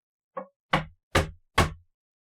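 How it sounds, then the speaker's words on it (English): Knocking on a door: a faint first tap followed by three loud, sharp knocks in an even, deliberate rhythm, close by with no voices. "there would be 3 sharp knocks on the door."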